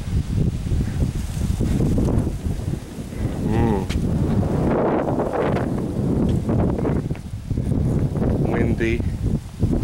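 Strong outdoor wind buffets the microphone with a loud, continuous low roar that rises and falls in gusts, while people talk over it.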